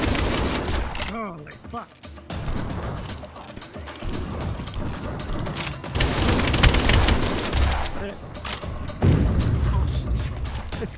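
Rapid gunfire from a multiplayer VR zombie shooter, The Flip, on Quest 3, with shotguns in play: dense bursts of shots and mechanical clatter fill the whole stretch, loud and continuous, while players talk and exclaim over it.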